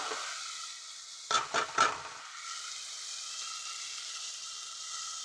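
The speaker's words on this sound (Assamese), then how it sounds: "ইয়াতে ডিমটো মই ভাজি দিম" An egg sizzles in hot oil, with a few sharp spattering bursts early on before settling into a steady, quieter crackle.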